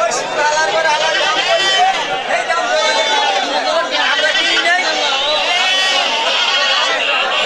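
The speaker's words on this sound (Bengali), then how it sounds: "ছাগল আর ছাগল, দেশি জাতের ছাগল," Native goats bleat repeatedly at a busy livestock market, their wavering cries overlapping amid a dense crowd babble of people chattering nearby.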